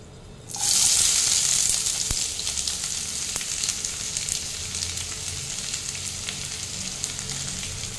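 Bay leaf, cinnamon, clove and cardamom hit hot oil in a kadai with a sudden loud sizzle that then settles into a steady, bright frying hiss, heard up close without talk.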